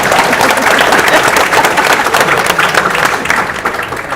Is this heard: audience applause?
yes